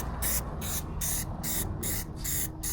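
Spray paint hisses onto a motor in short, repeated bursts as a light coat is applied, close and fairly loud, with no voices over it.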